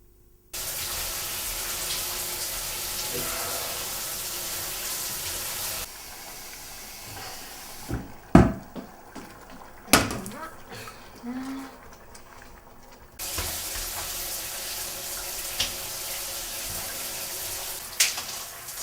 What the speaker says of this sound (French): vais prendre une douche.